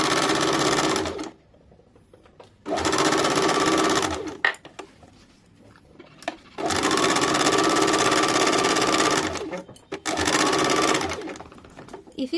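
A sewing machine runs a double seam on a salwar waistband in three long loud bursts of rapid stitching, with quiet gaps and small handling clicks between them.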